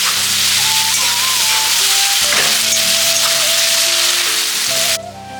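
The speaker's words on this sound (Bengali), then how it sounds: "এই পেঁয়াজগুলো এর মধ্যে দিয়ে দিব। সুন্দর করে এটাকে ভাজতে হবে।" Sliced onions dropped into hot oil with bay leaves for an egg curry, a loud, dense, continuous sizzle with crackling, close up, easing slightly at the end.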